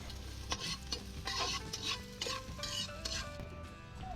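Onions are sautéed in a pan that was just used for frying eggplant, in a farmhouse kitchen. Spatula strokes scrape and clatter in a quick rhythm over a quiet, steady sizzle close by.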